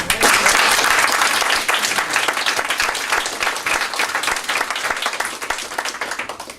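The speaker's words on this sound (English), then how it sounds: "would you please give them a big round of applause" Audience applause fills a town meeting hall, steady and dense at first, then thinning slightly while staying continuous to the end.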